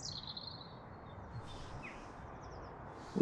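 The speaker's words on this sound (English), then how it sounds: "Just sitting here listening to the birds." Birds chirping and singing at dawn outdoors, a few thin high calls repeating faintly over a steady low background hum, with no talking.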